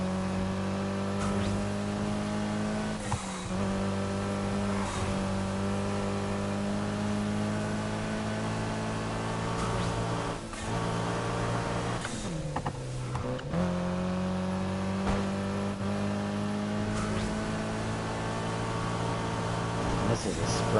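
A car engine revs hard through a night sprint race in Need for Speed Heat, droning steadily and climbing in pitch, with brief dips at gear shifts and a louder surge around the middle.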